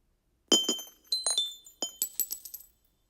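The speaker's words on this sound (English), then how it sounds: "next are some of the sounds of it falling and hitting the ground" Game sound effect of a ball falling and hitting the ground, made with a contact mic on a lifting weight: a series of sharp metallic clinks and bounces, several quick impacts ringing bright and close in a quiet space.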